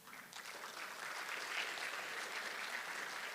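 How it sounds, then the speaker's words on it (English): An audience at an international forum on teaching profession development claps for the panelists, a steady, soft wash of applause heard from some distance for a few seconds. "please give a round of applause for our esteemed panelists"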